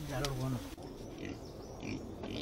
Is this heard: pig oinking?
yes